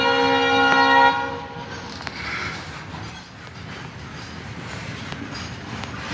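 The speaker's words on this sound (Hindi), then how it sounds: "ट्रेन जा रहा है हम लोग का।" Train departing, on a journey toward Guwahati, with a loud, close horn blast at the start, followed by steady rumbling rail noise and occasional faint clicks as the train gets moving.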